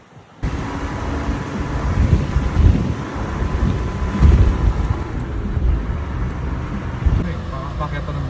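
A small 660cc car engine drones steadily as it climbs a mountain road in Nasu, heard from inside the cabin as a continuous low rumble mixed with wind and road noise.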